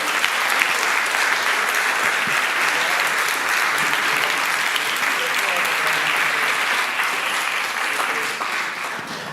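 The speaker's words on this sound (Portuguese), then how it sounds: "Vamos aplaudir Jesus por 2024?" A church congregation applauds during a Portuguese-language sermon. The clapping is loud and steady and continues for about nine seconds before easing slightly at the end.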